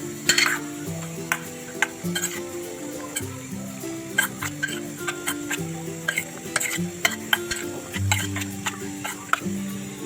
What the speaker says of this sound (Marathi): तर आता हे सर्व आहे ना मिक्स करतोय आता व्यवस्थित